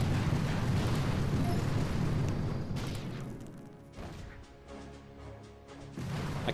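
Barrage explosions in the video game Mega Crab make a dense, loud roar of booms and blasts that thins out, with a short gap and some lighter tones before another surge.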